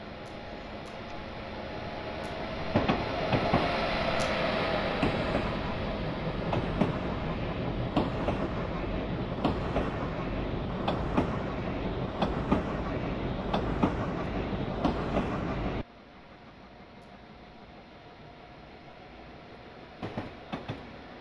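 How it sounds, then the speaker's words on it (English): A passenger train running between New London and Stamford rumbles steadily on the rails, with clicking joints and rattling carriages. The sound drops abruptly to a much quieter hum near the end, followed by a few light knocks. "This is the train to New York."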